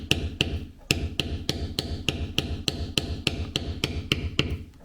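A mallet strikes a checkered beveler on leather: a steady series of about a dozen sharp, close taps at an even rhythm, each one crisp and loud, with no voices.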